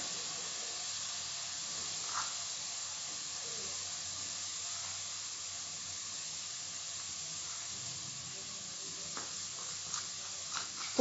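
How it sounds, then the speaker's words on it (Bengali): Konkani masala sizzling in a pan with sautéed onions over medium flame, a faint, even hiss of frying steam that runs steadily throughout, with a few soft clicks and stirs near the end. "এবার আমি কোঙ্কনি মশলাটা দিয়ে দেবো"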